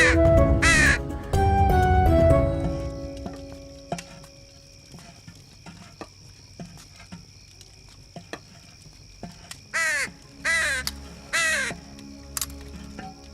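A crow caws several times, loud harsh calls clustered near the start and again in a burst of three near the end, separated by quieter stretches of faint ticking and taps with no talk.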